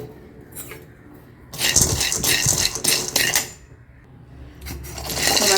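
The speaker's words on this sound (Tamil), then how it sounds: "இப்போ இந்த வேர்க்கடலை நான் வறுத்த வேர்க்கடலை தான், இருந்தாலும் ஒரு நிமிஷம் திரும்ப வறுக்க போகிறேன்." Already-roasted peanuts being dry-roasted again in a pan while making peanut candy, giving bursts of rattling, clinking scraping and stirring close by, with brief pauses between rounds of stirring.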